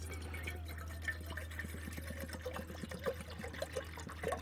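Water trickles and splashes steadily into a large camping pot, with small irregular drips and gurgles over a low steady hum.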